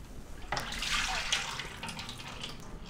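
Water left over from cleaning pours out of the drip drawer of a Philips LatteGo 5400 series coffee machine, a steady close splashing that runs for several seconds without talk.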